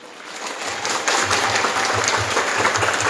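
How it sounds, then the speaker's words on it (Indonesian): Applause from the assembled crowd at an Indonesian Independence Day ceremony, honouring a madrasah aliyah team's first-place win at the Seruyan district level; steady clapping swells after a quieter start and carries on alone to the end. "Tepuk tangan dong."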